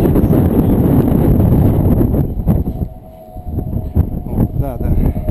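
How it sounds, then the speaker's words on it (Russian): Strong wind gusts buffet an outdoor microphone beside a birch tree, a loud roaring rumble that swells and briefly eases midway, with faint voices underneath. "Ну, ветер вроде послабее стал. Послабее, но березка сдувает иногда порывами."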